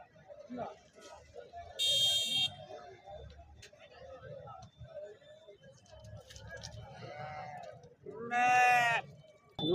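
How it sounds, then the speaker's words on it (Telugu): Sheep bleat now and then amid a busy crowd of voices at a weekly livestock market, with a couple of sharp electronic beeps cutting through. "ఈ గొర్రె రెండు పిల్లలు వేసింది"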